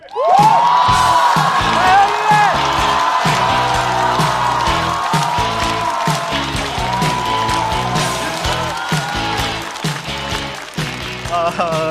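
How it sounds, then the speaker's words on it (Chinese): Studio audience of a Chinese stand-up comedy show applauding and cheering loudly as a comedian is welcomed to the stage, a dense steady roar with whoops and music running beneath throughout. "掌声欢迎赵越"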